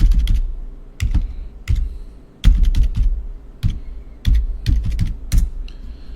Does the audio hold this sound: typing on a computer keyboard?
yes